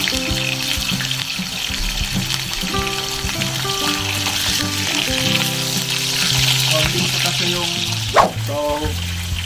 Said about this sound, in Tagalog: Okay, magluto na tayo ng meat ng burger natin.